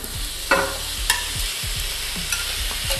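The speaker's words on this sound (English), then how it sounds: "Now you're going to add in your shrimp." Shrimp frying in about two tablespoons of oil in a hot pan for a stir fry, a steady close sizzle with a few sharp clicks of a utensil and no voices.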